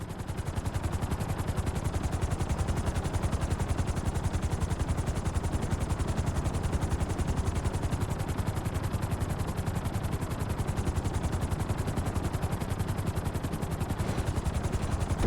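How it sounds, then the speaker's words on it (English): A helicopter's rotor chops in a fast, steady rhythm in the video game GTA 5, landing on a helipad, loud and continuous throughout, with a dense mechanical thrum. "Bring the helicopter down gently onto the helipad."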